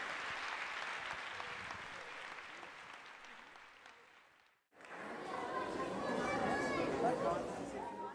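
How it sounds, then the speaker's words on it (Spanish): Congregation applause at an evening church worship service: several seconds of crowd clapping and chatter, a brief drop to near silence, then a renewed wave of applause with voices and a few cheers. "¿Cuántos le dan un aplauso al Señor esta noche?"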